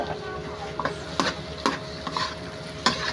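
Pork sizzles in a pan with sautéed garlic and onion for pork igado, under a steady frying hiss broken by several sharp scrapes and taps of a spatula stirring, close up with no talking.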